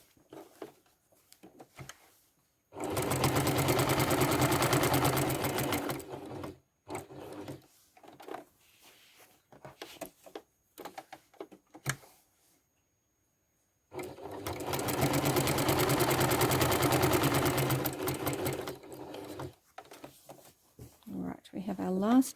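Quilting sewing machine stitching along a previous line toward a corner of a shadow triangles quilt, two steady bursts of rapid mechanical whirring a few seconds each, with a person talking quietly in the pauses between them.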